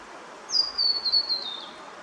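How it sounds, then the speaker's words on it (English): A single thin, high-pitched scarlet honeyeater call rings out for about a second, a sharp descending whistle over faint outdoor background along the Nepean River near Sydney. "Quite a few scarlet honeyeaters in this section."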